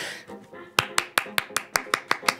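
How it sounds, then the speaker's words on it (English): One person claps alone at a podcast recording, about nine sharp, evenly spaced claps close to the microphone after a moment of talking. "Clap myself there."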